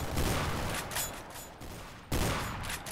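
Sniper rifle fire in Garry's Mod during a cops-and-robbers bank raid, two loud bursts of shots with rattling echo tails, the second coming abruptly after a short lull.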